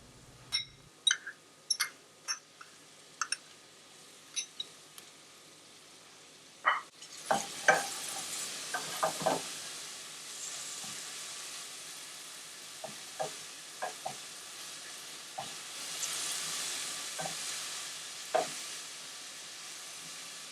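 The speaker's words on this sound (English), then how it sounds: "Add ginger garlic paste and cook for 30 seconds." Ginger garlic paste frying in a pan for a chickpea masala, starting with a run of sharp clicks and knocks, then a soft steady sizzle broken by intermittent stirring taps and scrapes.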